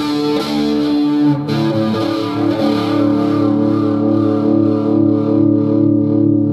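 An electric guitar plays through a Marshall MG 100 HDFX head amp on its first overdrive channel, ringing out a loud, sustained, distorted chord that shifts pitch once or twice and then holds steadily, with no voices.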